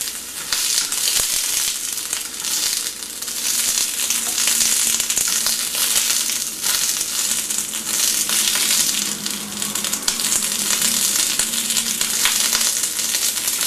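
Eggplant slices fry in oil in a pan, a dense, continuous sizzle and crackle close up with occasional sharper pops and faint stirring, and no voices.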